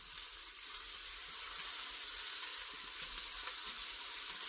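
Beef for lo mein frying undisturbed in a hot pan, a steady, even sizzle that runs alone and close throughout with no talk.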